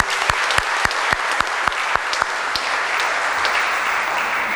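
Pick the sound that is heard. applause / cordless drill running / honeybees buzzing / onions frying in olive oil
applause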